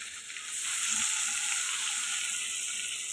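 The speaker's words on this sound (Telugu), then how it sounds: "ఎగ్స్ ఫ్రై చేసుకుందాం" Boiled eggs frying in hot oil with turmeric, a loud, dense, continuous sizzle that stays steady and close throughout.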